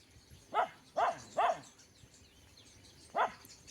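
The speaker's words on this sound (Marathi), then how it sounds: "असं कोणीतरी आले की बघा कुत्री भुकत असतात" Dogs at a house barking at someone approaching: four sharp, moderately distant barks, three in quick succession and one more after a pause.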